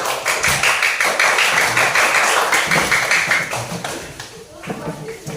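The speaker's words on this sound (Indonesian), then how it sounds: "Oke, silakan duduk kelompok 2. Tepuk tangan dulu." A class of students claps for a group that has just presented, a dense burst of applause filling the room for about four seconds before fading, with voices around it.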